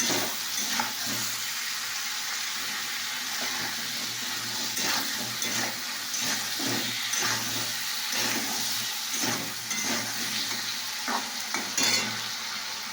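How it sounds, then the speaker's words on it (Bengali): Food is stirred in a pan with salt and turmeric, giving a steady sizzle with repeated scraping strokes of the spoon throughout, close and fairly loud, with no voices. "নুন হলুদ একটু দিয়ে নাড়াচাড়া করছি"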